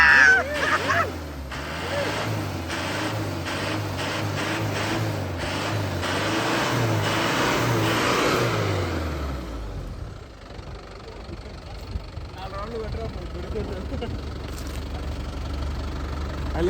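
A ten-year-old truck at a petrol station runs after its fuel pump is primed, the engine rumbling with rising and falling revs for about nine seconds before dropping away to a quieter, uneven background.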